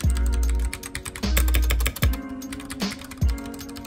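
Short bursts of typing on a Ducky One 2 Mini mechanical keyboard with silver switches, quick light key clacks in a few clusters with brief pauses, close and crisp with no talking.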